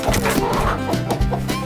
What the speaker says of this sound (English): This little chicken is broody